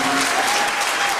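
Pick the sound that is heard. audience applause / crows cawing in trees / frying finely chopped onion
audience applause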